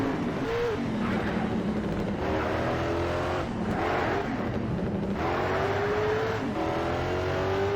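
Race car engine in Need for Speed: SHIFT during an exotic sprint race, revving loudly and steadily with repeated upshifts and rising pitch sweeps, continuous and close throughout.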